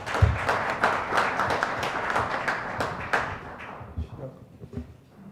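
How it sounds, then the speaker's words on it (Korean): An audience at a policy seminar on small-business employment applauds to welcome the first panel discussant. A fairly quiet room fills with scattered individual claps that gradually thin out and fade by the end. "큰 박수로 맞으시면 고맙겠습니다"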